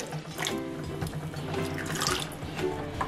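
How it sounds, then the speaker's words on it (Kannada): Water pours into a vessel of washed rice and lentils for soaking, a short, soft, steady splashing stream heard up close. "ಇದಕ್ಕೆ ಮುಳುಗೋಷ್ಟು ನೀರು ಹಾಕ್ಕೊಂಡು"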